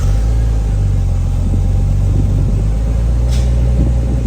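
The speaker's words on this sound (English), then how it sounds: "let's hear what the factory exhaust, or the exhaust that's existing, has to offer." A Nissan R34 Skyline idles through its factory exhaust in a loud, close, steady low rumble with a constant broadband hiss and no talking over it.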